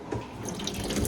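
Water runs steadily from a hose or tap, washing rubbish and seaweed out of a boat's trainer outdoors on a windy day; a close, continuous gushing spray with no talk.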